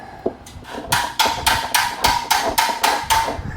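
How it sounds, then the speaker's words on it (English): Sharp metallic hammer blows from a craft hammer straightening a Jeep TJ running board ring out in a steady rhythm, about ten strikes close by, each with a bright clang against metal. "straightening the running board with a craft hammer"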